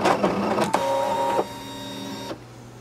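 Brother ScanNCut machine cutting metal, a steady mechanical whir with sharp clicks near the start, then a quieter humming run that cuts off abruptly.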